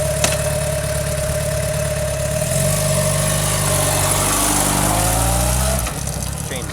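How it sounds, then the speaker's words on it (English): 1999 motorcycle engine idling close by, a loud steady rumble that rises briefly as it revs, with people talking over it. "Motor sounds good."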